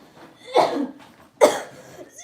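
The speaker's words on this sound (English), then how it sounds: "The cough was so powerful." Two sharp, forceful coughs close to the mic, about a second apart, with quiet breathing between them.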